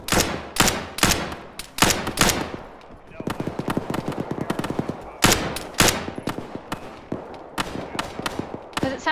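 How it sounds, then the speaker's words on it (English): Bursts of rapid automatic gunfire in the video game Arma 3 crackle in repeated volleys, loud and near, with brief pauses between strings of shots. "Oh my god, those musical gunshots again."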